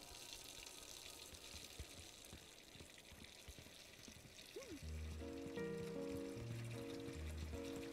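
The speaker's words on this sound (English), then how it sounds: "The water's just draining onto the floor." Water drains onto a floor in Untitled Goose Game, a steady watery gush running throughout before game music enters partway and plays over it.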